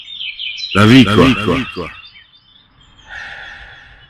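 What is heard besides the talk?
bird singing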